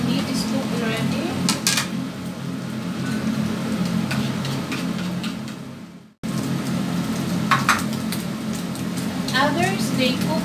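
Onions and garlic cooking with already-cooked meat in a pan, heard as scattered clinks and scrapes of a utensil against metal over a low steady hum, with a brief cut midway.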